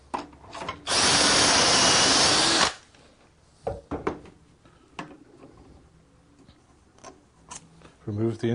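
A single loud burst of drilling dowel holes through a Dowelmax jig for about two seconds, framed by clattering, clicks and knocks of tools being handled nearby.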